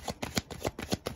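Tarot cards are shuffled up close in quick, regular riffling bursts, about eight crisp papery slaps in a steady rhythm, with no talking.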